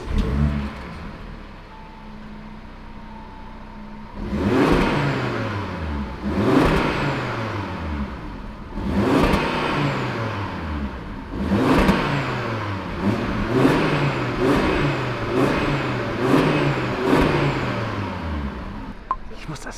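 An Audi RS3 engine idles, then is revved repeatedly, each blip rising sharply and falling back, loud and close, with some voices underneath.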